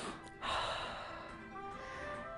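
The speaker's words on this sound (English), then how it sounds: "but take a big inhale." A person takes one big, audible inhale during an exercise routine, a breathy gasp that swells near the start and then tapers into a soft, sustained breath, faint and close.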